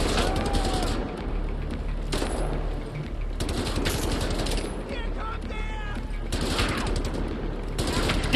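Rapid automatic gunfire bursts in Wolfenstein: The New Order at Gibraltar Bridge, a dense sustained fusillade with mechanical clatter, loud and continuous over someone talking.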